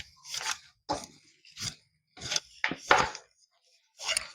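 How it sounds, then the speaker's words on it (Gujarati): Wheat flour dough mixed with oil for crispy chakri is kneaded by hand, producing about seven distinct squelching, crunchy presses in a loose rhythm, close and clear, with quiet gaps between strokes. "તેલ નાખ્યા બાદ હવે તેને આપણે છે તે મથી લઈએ ફરી પાછું એક વખત"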